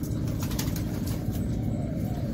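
Pigeons of a large-bodied breed make steady low cooing with soft wing flutters close by, continuous and without talk.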